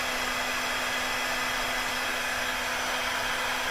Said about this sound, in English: I just prefer a heat gun because the heat gun gets only so hot and you don't burn them up